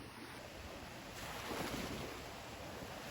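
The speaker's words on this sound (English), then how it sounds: "So there's no shortage of wind and waves." Wind and surf on a Florida beach at Lovers Key State Park after Hurricane Ian, a steady roar of breaking waves with gusty wind buffeting the microphone, swelling slightly midway, with no voices.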